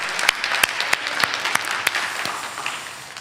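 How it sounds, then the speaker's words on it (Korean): A church congregation applauding at a Friday worship service, a dense wash of many hands with a few sharper claps standing out, steady and then slowly fading toward the end. "하나님께 영광의 박수를 한번 올려드릴까요?"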